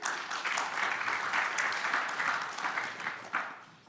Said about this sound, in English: Once again, big applause for our MC.